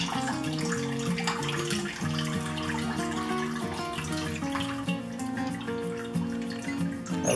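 Ragi flakes rinsed by hand in a bowl of water, a steady close sloshing and swirling that carries on throughout, with faint background music.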